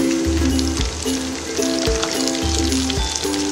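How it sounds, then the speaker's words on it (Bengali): Chopped square-cut onion frying with ginger in a hot pan on high flame, a steady loud sizzle with bursts of crackle and a few stirring scrapes. "এখন আমি দিয়ে দেব স্কোয়ার করে কুচনো পেঁয়াজ"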